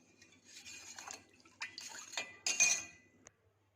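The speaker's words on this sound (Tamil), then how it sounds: "கைவிடாமல் கிளறிட்டே இருங்க" A utensil scrapes and clinks against a pot while stirring urad dal (black gram) porridge, with a few irregular light knocks and scrapes close by and no talking.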